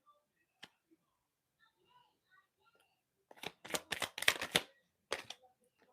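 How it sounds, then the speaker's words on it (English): Tarot card deck shuffled by hand, a cluster of crisp riffling and flicking bursts after scattered quiet clicks, close and soft. "I want to do this deck for the tarot so that we can clarify some of these cards."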